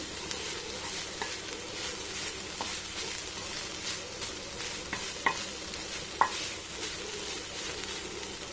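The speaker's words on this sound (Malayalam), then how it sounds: "ഇനി നമുക്ക് ഒരല്പം ഫ്ലെയിം കൂട്ടി വെച്ച് നന്നായിട്ടൊന്ന് ഇളക്കി കൊടുക്കാം" Bean thoran is stirred in a pan over a raised flame, giving a soft, even sizzle with occasional light spatula taps and two sharper clinks toward the end.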